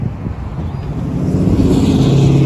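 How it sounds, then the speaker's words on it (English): Steady traffic roar from passing cars on a nearby road, a broad rumbling wash that swells slightly louder toward the end. "I hope you guys can hear me through all this traffic noise"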